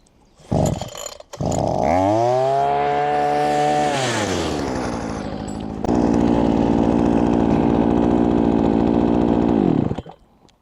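A GRAND petrol brush cutter starts after a pull and its small two-stroke engine revs up with a rising whine, holds high, drops back, then settles into a loud, steady buzzing drone before shutting off, close and alone.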